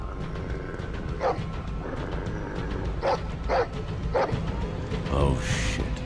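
A dog yips and barks in short, separate bursts while attacking in a Game of Thrones video game, heard over a dense rumbling game soundscape.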